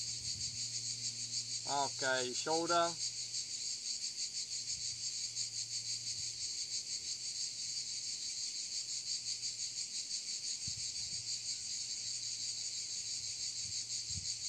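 Cicadas at the end of summer keep up a steady, high, unbroken buzzing drone the whole way through, with a short spoken phrase briefly heard over it.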